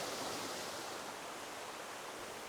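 A creek flows with a steady, unbroken rush of water that fills the whole stretch evenly, with no voices, heard beside a stream while fishing for rare trout in the USA.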